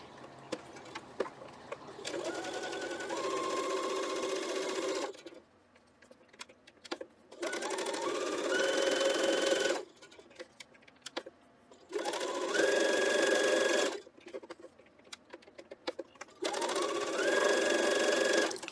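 Sewing machine stitching around quilt fabric squares for a flying geese block, running in four bursts of two to three seconds each, separated by quiet pauses.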